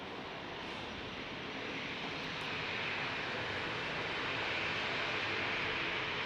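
An airplane engine roars steadily at Dallas Love Field, a broad continuous rush that swells slightly louder toward the end, with no voices over it.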